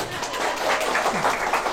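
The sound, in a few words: applause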